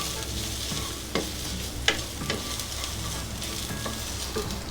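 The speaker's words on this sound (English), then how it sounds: "And just give this a good stir." General Tso's chicken with grated ginger is stirred in a hot pan, a steady sizzle and frying hiss running throughout with a few sharp scrapes and clacks of the utensil, close up and without speech.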